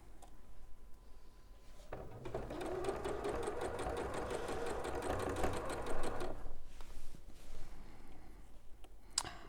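A sewing machine runs steadily for about four seconds, stitching a narrow border frame onto a Pemberley garden quilt block, with quieter handling and clicks before and after.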